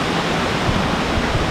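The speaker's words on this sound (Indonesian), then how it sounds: "Air Terjun Tiu Kilep" Tiu Kelep waterfall in Senaru, Lombok, a loud, dense, unbroken roar of falling water heard up close with no other sounds.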